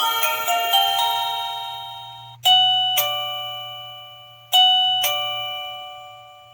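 A wireless caregiver pager receiver for elderly monitoring plays its chime ringtone: a steady tone is followed by two pairs of bright, loud ding-dong notes, each ringing out and fading, with a low hum beneath and no talk.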